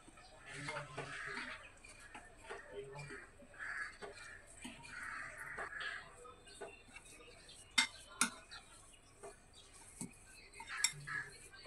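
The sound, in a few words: mixing semolina, oats and sour yogurt in a bowl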